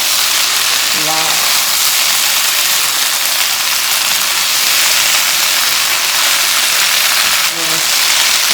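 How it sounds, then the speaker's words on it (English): Fried chicken for Kung Pao chicken sizzles loudly and continuously in a hot pan, a dense crackling hiss like rain. Two brief voice sounds are heard over it. "put the fried chicken now"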